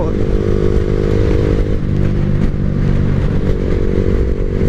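A motorcycle engine running low on fuel drones loud and close with a rough, uneven throb, its pitch wavering and surging as it starts to falter and sputter.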